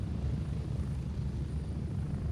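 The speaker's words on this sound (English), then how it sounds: "Get up on this helicopter here." A helicopter in the military shooter game Gray Zone Warfare gives a steady, fairly quiet low rotor-and-engine drone that holds unchanged for a couple of seconds, with no talking.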